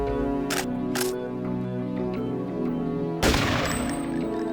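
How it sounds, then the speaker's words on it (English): A gunshot in the Deus Ex video game rings out at about 3.3 seconds as one loud, sharp burst over steady game music, with two short hits heard earlier in the music. "I'm gonna shoot this guy."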